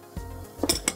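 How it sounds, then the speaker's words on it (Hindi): Vegetables, including carrot and cabbage, are mixed in a kitchen mixing bowl. A few sharp clinks of a utensil against the bowl come up close over a quiet background. "चलिए मिक्सिंग बोल में तमाम अज्जा को कर लेते हैं मिक्स।"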